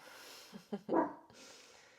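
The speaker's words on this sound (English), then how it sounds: "Minnie, why are we barking?" A dog gives a couple of short, quiet yips followed by one brief bark, heard faintly against a soft background hiss.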